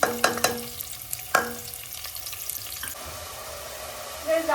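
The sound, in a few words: onions frying in hot oil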